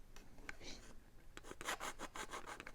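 A knife blade drawn across the stone of a Smith's Precision Sharpening System, a series of short, close rasping strokes, faint at first and then quicker and louder.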